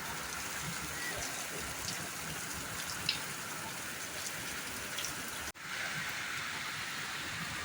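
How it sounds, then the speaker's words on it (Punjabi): Steady evening rain hisses down evenly in Hoshiarpur, Punjab, with a few drops pattering nearby and a brief dropout partway through. "ਬਾਰਿਸ਼ ਚੈੱਕ ਕਰੋ ਜੀ"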